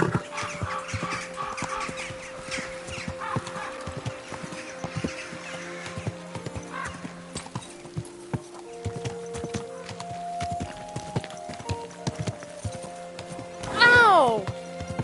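A horse's hooves clip-clop at a steady walking pace in the medieval game Kingdom Come, with a short loud neigh near the end over a soft background score.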